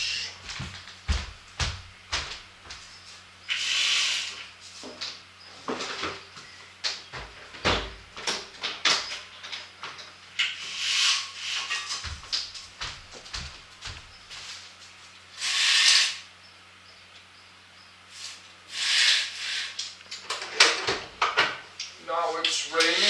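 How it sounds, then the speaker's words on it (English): Doors and windows are shut in a room one after another as rain begins, a series of sharp knocks, slides and latching clunks with quiet pauses between them. "I need to close the doors and windows."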